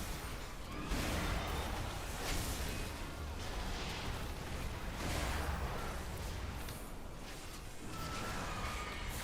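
Festering Scythe, a Death Knight ability tested in the Midnight alpha of an online role-playing game, sets off a dense, continuous barrage of booming game explosions and whooshing bursts that swell and fade repeatedly, loud and unbroken throughout.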